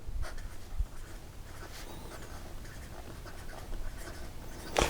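A Leonardo Momento Zero Blue Hawaii fountain pen writing on paper, faint close scratchy nib strokes coming in short irregular bursts with a couple of soft taps, no voices.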